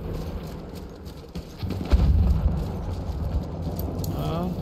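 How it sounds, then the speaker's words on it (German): Horse hooves clip-clopping in the WWI shooter Battlefield 1, a moderate rhythmic trotting that swells partway through, heard under voices talking over game noise. "da ist noch ein Pferd, das ist von uns"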